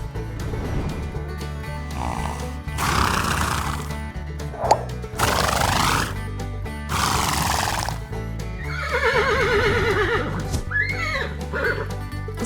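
Horses neighing and whinnying on a farm, a series of loud, close whinnies with falling and wavering pitch over steady background noise, joined by snorts and hoof clip-clop.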